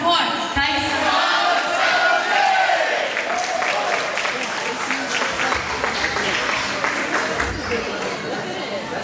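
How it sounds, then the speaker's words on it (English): An audience at a Santo Niño thanksgiving celebration applauds loudly after a Philippine national dance performance, a dense continuous roar of clapping with cheers and crowd chatter throughout, tapering only slightly toward the end. "Let's give them a big Santo Nino round of applause, ladies and gentlemen."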